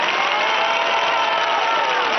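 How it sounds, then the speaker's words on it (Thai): An audience applauds at a student representative's speech at a Rama VIII Bridge event. Loud, continuous clapping from a crowd is mixed with faint cheering, steady throughout the short span. "ขอเสียงปรบมือครับ"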